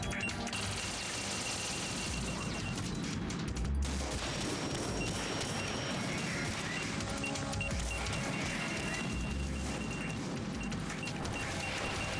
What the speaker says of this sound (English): they're constantly shooting at you